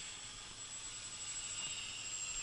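A faint, distant whine of a Dynam T-6 Texan RC model airplane engine, a thin steady high drone against quiet outdoor air.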